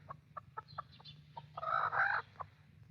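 A chicken clucks in a short series of sharp, evenly spaced calls, then lets out a louder, drawn-out squawk before one last cluck, heard fairly close against a low steady hum with no talking.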